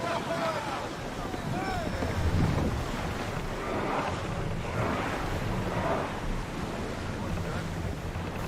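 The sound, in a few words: ship sailing on sea waves, from video game Assassin's Creed Odyssey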